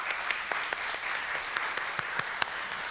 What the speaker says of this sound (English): Please give her a hand.